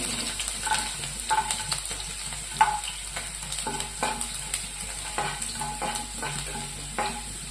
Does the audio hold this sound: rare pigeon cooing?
no